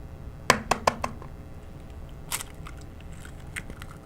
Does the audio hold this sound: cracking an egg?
yes